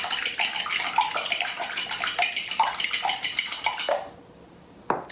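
Eggs whisked in a bowl for scrambled eggs, a steady rapid clatter of the whisk against the bowl for about four seconds, fairly close, then a short pause and a final sharp tap.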